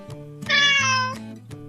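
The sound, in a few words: cat meowing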